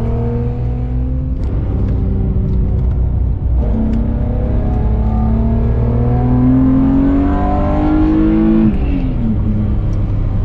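Loud, close car engine with an aftermarket BMW M3 silencer revving up and down repeatedly, a deep throaty exhaust note rising in pitch with each rev.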